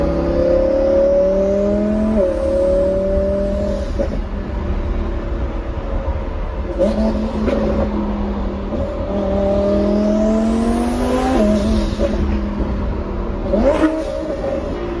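Twin-turbo Lamborghini Huracan engine accelerating hard and revving loudly, with rising pitch sweeps through repeated gear changes, close and sustained with no talk.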